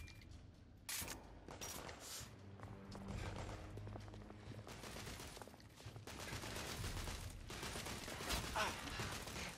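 Gunfire in the video game The Order: 1886, a chaotic stretch of repeated shots and mechanical clatter at moderate level, sharp bursts scattered across the clip amid background game noise.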